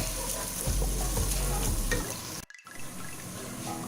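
Ginger garlic paste being stirred into onions frying in a pan for bhuna qeema: steady close sizzling with scraping stir strokes, then a brief pause before the frying hiss returns.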